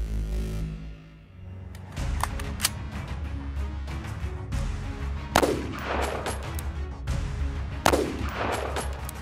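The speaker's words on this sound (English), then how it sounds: "shoot Premier level 3 steel armor with Fort Scott 62 grain Brass Hog from a 16 inch barrel" Rifle fire from a 16-inch barrel shooting Fort Scott 5.56mm 62-grain Brass Hog rounds at Premier Level III steel armor: several sharp, loud cracks spaced a few seconds apart, each with a ringing metallic impact and a reverberant tail outdoors.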